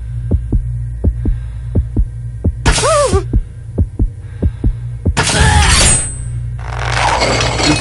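A loud, deep heartbeat pulses at a steady, fast rhythm over a low hum, cut into by bursts of harsh noise and scraping effects.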